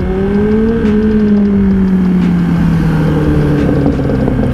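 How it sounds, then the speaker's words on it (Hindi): Ducati Panigale V4 superbike engine revving on a road ride, a loud continuous engine drone whose pitch slowly drops, heard close with strong wind rush. "सुपर बाइक का साउंड यार"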